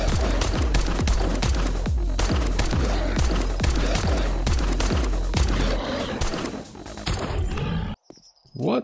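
Rapid bursts of automatic gunfire in the zombie survival game 7 Days To Die, REBIRTH mod, a steady rhythm of loud repeated shots for about seven seconds before cutting off into near silence.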